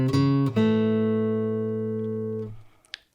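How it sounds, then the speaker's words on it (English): An electric guitar plays a riff in the style of a rock song: a few quick chord hits settle into one sustained chord that rings for about two seconds, then stops. A faint scrape follows near the end. "Same type of riff heard in some other songs,"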